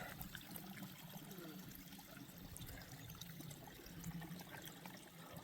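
Quiet running water trickles and gurgles steadily along the Appalachian Trail in Pennsylvania, a soft continuous flow with no voices.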